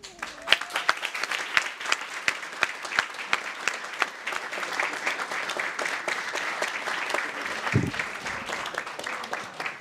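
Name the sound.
applause for council members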